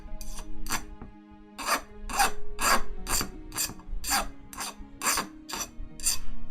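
A hand file rasps off a burr from a metal part while building a RepRap 3D printer, about a dozen distinct back-and-forth strokes in an uneven rhythm, close and clear, with no talking.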